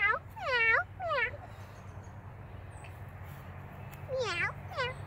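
A child imitates a cat, giving a pair of rising-falling meows, then another pair a few seconds later, close and clear over a quiet background.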